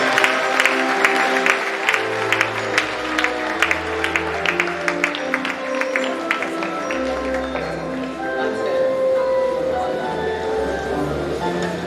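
An audience applauds at an inaugural lecture on plant pathology, steady clapping from many hands filling the room for several seconds with a low murmur beneath.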